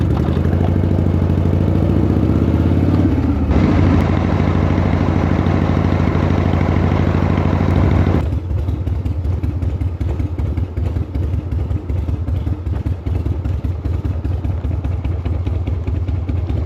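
1979 Harley-Davidson Shovelhead motorcycle riding through a nature reserve, a loud close engine drone that shifts pitch midway as the rider eases off, then settles into a rougher, pulsing run.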